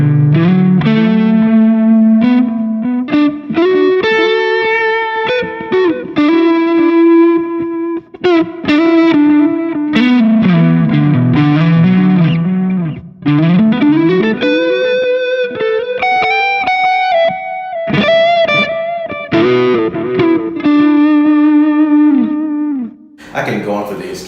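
An electric guitar runs through a Goodwood ODR1 overdrive pedal, giving a thick, sustained driven tone as it plays a flowing melodic line with bends and slides, loud and continuous with short pauses between phrases.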